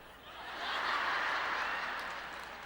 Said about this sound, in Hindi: यहाँ पर केवल यहाँ के लोग ही तालियां बजा रहे हैं।